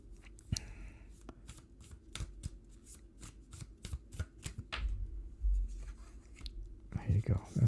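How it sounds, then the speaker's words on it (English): A deck of cards is shuffled by hand in a run of quick, crisp riffling clicks and flicks up close, followed by softer handling and a low voice near the end. "Oh, gosh, I can't shuffle today"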